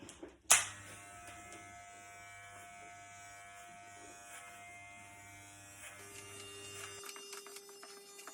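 Electric hair clippers set to a zero guard switch on with a sharp click and hold a steady, close buzz during a gents' haircut. The tone shifts slightly before the motor cuts near the end.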